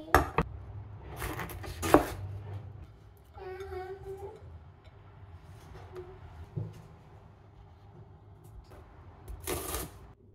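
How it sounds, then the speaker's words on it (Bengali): Capsicums sliced with a knife on a board, a few scattered crisp cutting bursts and soft knocks spread over quiet stretches, with a brief voice partway through. "তো প্রথমে আমি ক্যাপসিকামগুলোকে কেটে নিচ্ছি।"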